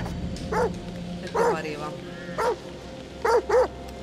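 Several dogs bark in short bursts at moderate distance in the horror game The Devil in Me, with yips and a whimper among the barks, while someone talks over them in Italian.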